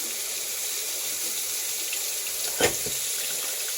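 Tap water runs steadily into a sink, a constant close hiss filling the whole stretch with one brief splash near the end, no voices.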